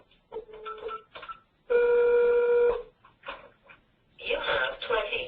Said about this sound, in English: So I'm going to call into my phone.